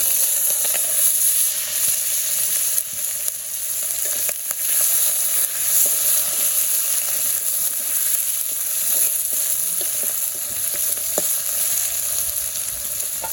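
Vegetables with mustard seeds frying in hot oil in a village kitchen, a steady loud sizzle throughout with faint stirring clicks and no talking.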